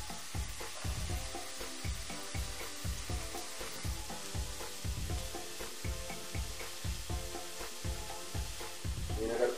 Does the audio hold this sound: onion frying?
yes